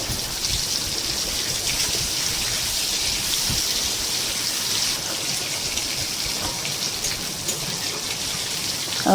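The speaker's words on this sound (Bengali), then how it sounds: "কড়াইতে তেল গরম করে মাছগুলো লাল লাল করে ভেজে নেব" Fish frying in hot oil in a wok, a steady dense hiss and crackle like rain, close and even throughout with no talking.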